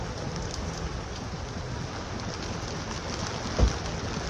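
Steady heavy rain from Tropical Storm Nadine pours down in Belize City, a dense, even hiss on the surfaces all around with one brief dull thump near the end.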